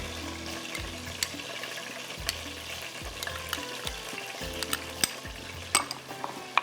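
Stock is poured into a pan of thickening Manchurian sauce for smoked chicken Manchurian, giving a steady low sizzle with bubbling liquid and repeated stirring scrapes, close and moderate in level, with no talk.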